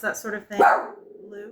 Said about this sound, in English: I apologize for my dog wanting to be a part of the video.